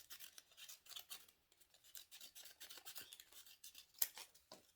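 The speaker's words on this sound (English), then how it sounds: "I'm just going to cut along the edge" Scissors snipping along the edge of paper, a rapid run of close, crisp cutting strokes with brief pauses, no voices.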